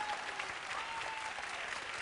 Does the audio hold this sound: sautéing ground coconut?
no